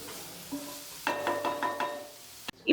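Filling sautéed with chili powder in a pan, a soft sizzle with a burst of stirring scrapes in the middle, each stroke distinct and close, then a sharp clatter at the end.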